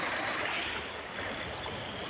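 Water rushes steadily through a culvert beside farm fields, making a continuous broadband wash at moderate volume with no pauses and no voices.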